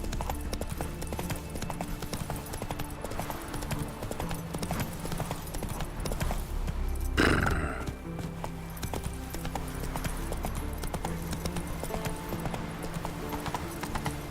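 Roach, the horse in The Witcher 3, trots with steady, rhythmic hoof clip-clops that carry on throughout, broken briefly midway by a short louder rush of noise.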